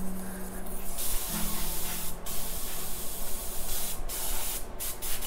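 Airbrush spraying paint while being fixed after dried paint clogged it, a steady close hiss of air with short breaks where the flow cuts out and resumes.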